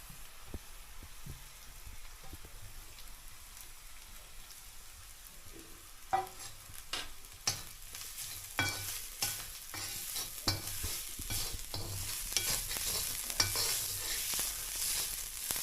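Sliced onion and grated coconut frying in a pan on a wood-fired stove, a low steady sizzle that turns busier with repeated scraping stirs and clatter partway through, close and without talk.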